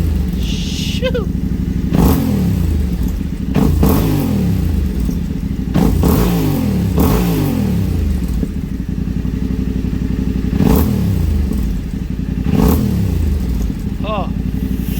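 A Yamaha Tenere 700 motorcycle fitted with an Arrow high exhaust idles with a deep, lumpy burble, then revs sharply again and again, each throttle blip rising and falling back, loud and close.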